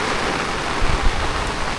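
Heavy monsoon rain pours steadily over a Konkan village, a dense, even hiss throughout with a few low thumps of drops striking a surface, no voices.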